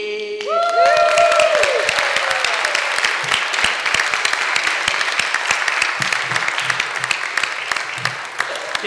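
A church congregation at a Christmas nativity service gives the performers a loud, sustained round of clapping that rises quickly and carries on steadily, with a few cheers mixed in at the start.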